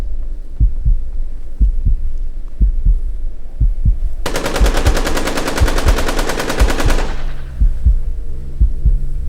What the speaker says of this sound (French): à ce moment-là, c'est la fusillade